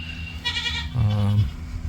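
Goats bleating in a paddock while browsing on scrub and bushes, two close wavering bleats one after another, the second deeper and longer, with no talk over them.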